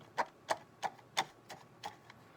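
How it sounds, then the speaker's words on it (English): Squeaky chicken cup toy sounded by pulling a wet paper towel along its string: six short, rasping squawks in a steady rhythm, close and moderately loud, fading slightly toward the end. "And you can kind of hear the squeaky chicken here."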